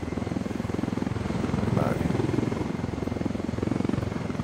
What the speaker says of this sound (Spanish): No me gusta ese sonido del helicóptero